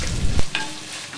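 Chopped onion fries in a clay pot: one soft knock of a spoon, then a brief, even sizzle fading back, heard up close.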